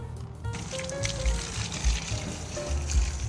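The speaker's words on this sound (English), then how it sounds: "Okay, let's water that really good." Water pours steadily onto newly planted garden starts from a nursery, a close, continuous splashing trickle into soil with no talking.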